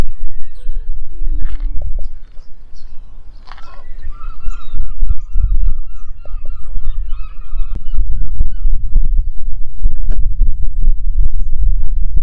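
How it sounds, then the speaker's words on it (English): Seagulls call at the seaside in Seahouses, Northumberland, with repeated honking, squawking cries over heavy wind rumble and busy background noise. "Certainly glad I haven't got fish and chips with that many seagulls hanging about here."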